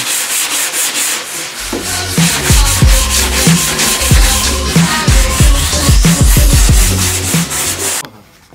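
Body filler on an MKIV Toyota Supra is sanded by hand in quick, rhythmic back-and-forth strokes, loud and close, the scraping rasp repeating steadily before stopping abruptly near the end.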